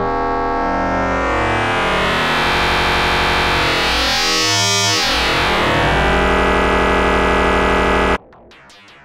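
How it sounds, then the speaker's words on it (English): Two sine oscillators crossfaded through an Antimatter Audio Crossfold Eurorack module, a loud buzzing, harmonically rich drone that shifts and sweeps as the fade balance moves, then cuts off abruptly into a short echoing tail. "we're adding a second sine wave into input 2 and adjusting the fade balance between the"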